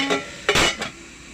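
A metal cooking pot and its lid clank together in a few quick clinks as the lid is set in place, close and fairly loud, followed by quiet.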